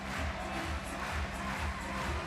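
Crowd at a Germany vs. Austria beach volleyball match at the CEV BeachVolley Nations Cup 2022 keeps up a steady roar of cheering, with a rhythmic pulsing underneath like clapping or chanting.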